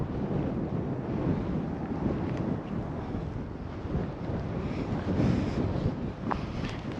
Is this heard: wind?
yes